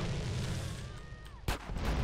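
A single sharp rocket blast in a video game cuts through low rumbling ambience after a faint rising whistle, then decays quickly.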